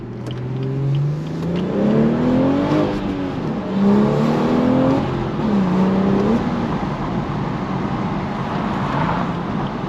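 Manual 400 hp BMW 4 Series accelerating at night with the windows down, its engine note climbing through several gear pulls with rising and falling revs, loud and close from inside the car, no talk.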